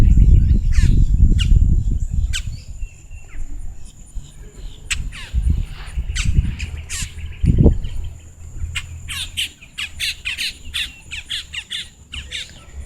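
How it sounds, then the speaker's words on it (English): Wild birds calling in their natural habitat, a dense mix of repeated squawks and chirps near and far, with insects buzzing underneath and louder low rumbles early on. "Watch as we watch the amazing birds live in natural habitat."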